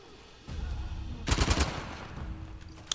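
Gunfire in the action video game Uncharted: The Lost Legacy: a brief, loud burst of rapid shots over a low rumbling background, then fading.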